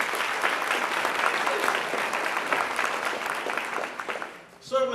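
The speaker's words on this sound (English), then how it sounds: "Join me in applauding all of those who spoke." A conference audience applauds after the morning's speakers at the TCADP 2014 annual conference: sustained, full clapping from a crowd that fades out near the end as a voice begins speaking.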